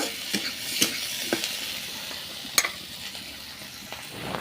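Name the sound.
frying vegetables in a pan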